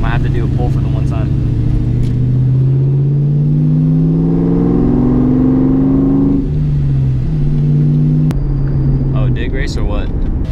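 An RS car's engine revs and pulls hard, rising in pitch through the gears with a clear shift, loud and close, then settling; people talk over it.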